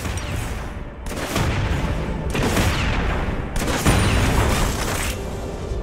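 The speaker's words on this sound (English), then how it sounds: "Jinx's first ability pulls out a rocket launcher. Tap to attack." Jinx fires her rocket launcher in the mobile game League of Legends: Wild Rift, a run of heavy booming blasts in three or four dense bursts with brief dips between, loud and close with no speech over it.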